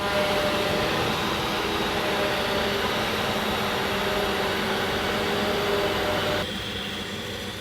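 A new forage harvester chopping a maize crop gives a loud, steady mechanical roar with a high whine that runs unbroken, then eases slightly near the end.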